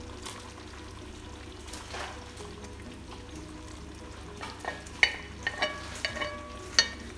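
Fried potatoes and chicken liver stirred in a simmering sambal goreng sauce: a soft continuous sizzle with intermittent spoon scrapes and clinks toward the end, no talk.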